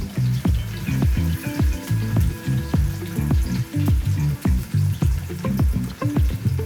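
Big onions of the 1.5 size sizzle and crackle steadily in hot oil in a pan, loud and close, with rhythmic stirring scrapes over the frying hiss.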